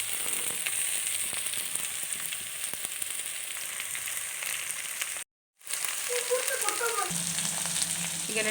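Chopped cabbage drops into onions frying with curry leaves in oil, a loud steady sizzle and crackle that cuts out briefly, then resumes with stirring and scraping.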